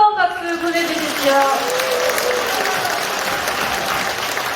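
An audience at a political party members' training event breaks into warm applause that carries on steadily, while a speaker's voice trails off over the first second.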